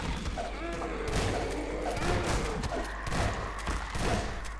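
Gunfire in a Garry's Mod horror map sounds as a dense run of sharp, loud thuds and bangs over several seconds, with frantic shouting mixed in.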